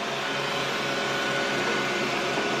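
A robot vacuum cleaner runs indoors with a steady, close whirring hum and brush noise that holds level and unbroken, with no talk over it.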